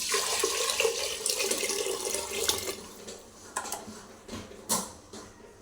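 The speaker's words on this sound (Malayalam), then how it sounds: "കുക്കറിലേക്ക് ആവശ്യമായിട്ടുള്ള വെള്ളം ഒഴിക്കാം." Water is poured into a pressure cooker holding rice: a steady rushing pour for about three seconds, then scattered splashes and drips as it stops.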